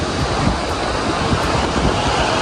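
Rough sea surf rolls onto a beach, a steady loud wash of breaking waves mixed with gusty wind buffeting the microphone, with no voices.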